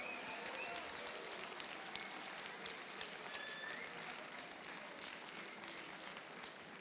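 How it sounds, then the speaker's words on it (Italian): An indoor conference audience applauds the mayor of Udine as he is welcomed to a physics talk; steady, fairly faint clapping fills the whole stretch without a break. "Un applauso per Alberto Felice De Toni, benvenuto."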